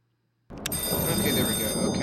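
A telephone rings in the horror game Five Nights at Treasure Island – The Lost Ones 2, starting abruptly after a moment of silence with a loud, close electronic trill that keeps ringing steadily.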